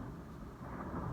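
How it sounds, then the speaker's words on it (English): Low, rolling thunder from a storm rumbles steadily for about a second, a dense broad roar with a slight swell toward the end and no voices. "the thunder was crazy"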